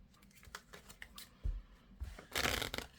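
Oracle cards being shuffled and laid out make quick papery riffles and soft slaps, close and fairly quiet, with a fuller burst of shuffling toward the end and no speech.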